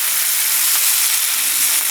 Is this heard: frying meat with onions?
yes